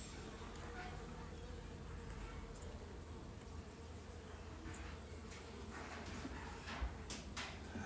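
Honeybees buzz steadily around a hive, a soft continuous drone that holds through the whole stretch, with a few faint handling knocks near the end.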